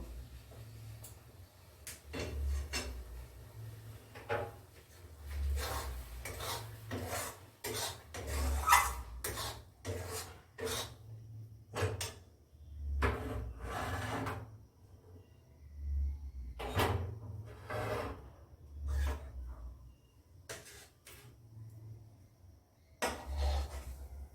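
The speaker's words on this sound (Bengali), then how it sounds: "এটাকে সমানভাবে এটাকে ছড়িয়ে দেব, যাতে বরফির পিসগুলো কাটতে আমার সুবিধে হয়।" A utensil scraping and tapping across a plate while semolina barfi mixture made with date-palm jaggery is spread flat, in irregular clinks and rasps with pauses between strokes, close by and with no talk.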